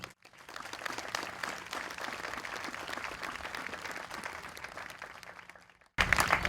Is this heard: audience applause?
yes